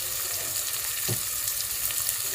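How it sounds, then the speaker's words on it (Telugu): Sliced onions sizzle in hot oil in a pan for a potato and drumstick gravy, a steady close frying hiss with a soft stirring scrape partway through and no talking. "కాస్త ఉల్లిపాయ వేగాలి"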